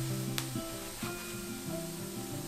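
Vegan shredded squid strips dry-stir-fried in a wok for about fifteen minutes, a steady sizzle with scraping, rustling strokes of the spatula against the pan, close and alone without any talk.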